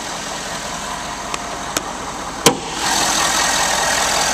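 A 2011 Ford F-250 Super Duty with a 6.7-liter Power Stroke diesel V8 idles close by, a steady mid-pitched rumble broken by a few sharp clicks before the engine note swells and holds a little louder.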